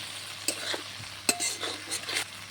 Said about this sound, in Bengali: এই মসুর ডালটাকে কিছুক্ষণ কষিয়ে নেব